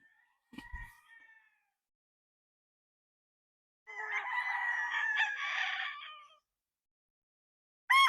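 A five-month-old Sweater gamefowl stag gives a brief cluck, then a loud, drawn-out crow lasting a couple of seconds, with a short burst of another crow starting at the very end; quiet gaps between calls.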